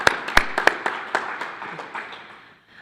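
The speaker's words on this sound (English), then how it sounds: "So let's give them all a welcome applause." An audience claps in welcome for guests at a meeting, a short burst of sharp, near applause that thins out and fades within a few seconds.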